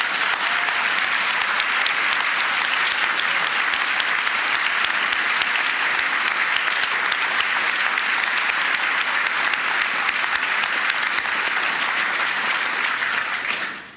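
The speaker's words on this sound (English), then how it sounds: "Can we please applaud our Secretary?" Guests at a State Department luncheon applaud the Secretary of State, a loud, dense, continuous round of clapping filling the room for about fourteen seconds before cutting off abruptly.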